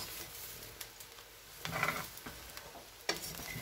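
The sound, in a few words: stirring rice and cereal mixture in a pot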